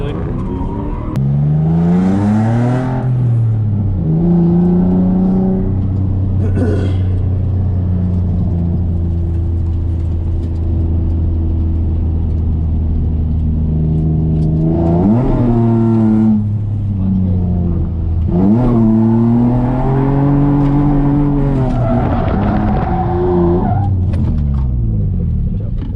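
A drift car's engine revs hard at a drift event, rising and falling through high RPM in loud, close sweeps, with rumbling drones between pulls and a brief hiss that may be tire skid.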